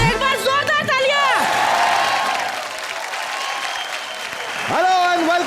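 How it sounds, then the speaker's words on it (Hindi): Loud applause and cheering from a comedy TV show studio audience, with whoops and a musical sting overlapping, swelling again near the end. "एक बार जोरदार तालियां।"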